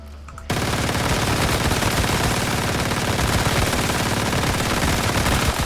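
A Frost Vortex build gun in the video game Once Human fires in a dense, unbroken stream from about half a second onward, loud and close, with the rapid shots merging into a continuous roar.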